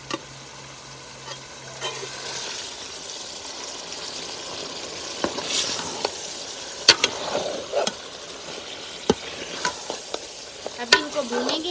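Ingredients roasting in a pan in a village kitchen, with a steady soft sizzle under scattered scraping stirs and sharper clicks of a utensil against the pan, close and moderately loud.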